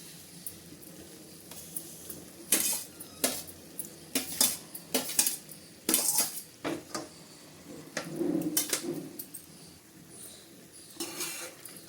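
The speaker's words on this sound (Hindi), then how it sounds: "सब्जियों को मसाले के साथ अच्छे से मिक्स कर लेंगे।" Fried vegetables being stirred and mixed with spices in a pan for a dry mixed veg dish, sharp clinks and scrapes of a metal spoon against the pan at an uneven pace, near and fairly loud.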